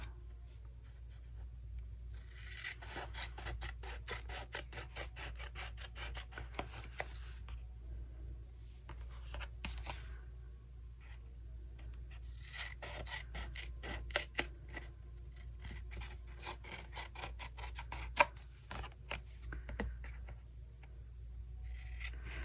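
A craft piece for a journal is trimmed with scissors in close, quiet snips and scraping strokes, coming in clustered bursts with brief pauses over a low hum.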